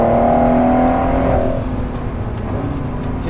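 A Ford GT sports car, rear-wheel drive, drives on a race track in Norway. Its engine holds a loud, sustained tone that eases from a high whine into a lower steady roar up close, with no voices.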